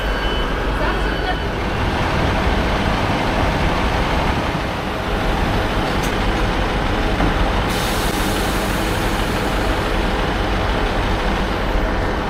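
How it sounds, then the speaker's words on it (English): A Northern Railway train to Stockport via Piccadilly rumbles past nearby, a loud steady roar of wheels on rails with a brief high squeal partway through. "that's the 6:57 Northern Railway train going to Stockport via Piccadilly"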